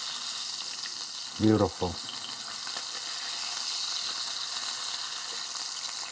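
Salmon pan-seared in a pan sizzles as a steady, even hiss throughout, and someone speaks one brief word over it.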